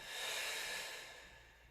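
A single soft breath exhaled during a Pilates exercise, close and airy, swelling quickly then fading gradually.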